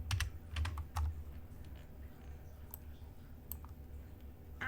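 Someone typing code on a computer keyboard: quick clusters of close, crisp key clicks at the start, then sparser individual keystrokes over a low background hum, with no talking.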